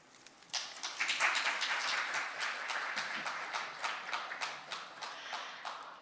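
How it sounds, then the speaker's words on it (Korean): Audience applause closing a session at an international patent court conference, a crowd clapping steadily at moderate distance, starting abruptly and thinning into scattered claps toward the end. "다시 한번 큰 박수 부탁드립니다"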